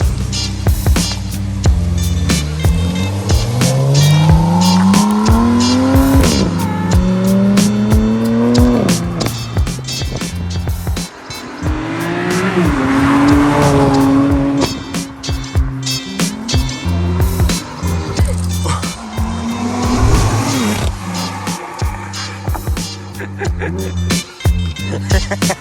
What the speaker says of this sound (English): Active Autowerke mid-pipe installed. Sounds pretty good.